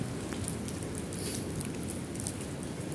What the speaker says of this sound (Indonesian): Tuh hujan sampai begini, deras banget ya.